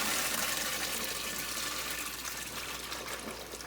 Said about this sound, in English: we're gonna rinse them all out. Okay? And I've got them in a big colander